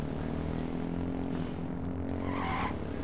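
A truck drives nearby in the video game H1Z1, a steady engine rumble with tire skidding and squealing rising near the end, moderately quiet and without speech.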